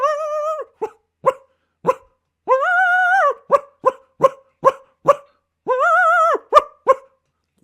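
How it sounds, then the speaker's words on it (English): Short sharp barks repeatedly alternate with drawn-out rising howl-like notes, a clear, close series of wolf calls in Yellowstone with no talking. "there's a call that they use that was not heard here until wolves were reintroduced to Yellowstone"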